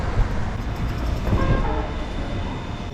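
A train rumbles nearby at a station in Portugal with steady low roar and clatter, a brief horn-like tone rising faintly in the middle.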